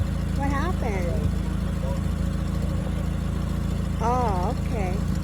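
A 1962 lift truck engine runs steadily at idle, a loud low rumble throughout with a voice talking over it.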